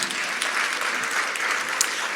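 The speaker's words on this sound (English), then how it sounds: "So please give yourself a warm round of applause." An audience at a summit applauding, a dense, even wash of clapping from many hands that holds steady throughout, with a faint voice beneath it.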